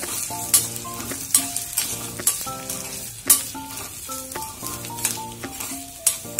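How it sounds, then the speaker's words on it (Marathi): Grated coconut, garlic and ginger roasting in a pan for a spice paste, with a steady close sizzle and a regular rhythm of spatula strokes scraping and knocking against the pan, no voices. "खोबरं, लसूण आणि अद्रक घेतलं होतं हे थोडंसं भाजून घ्यायचं।"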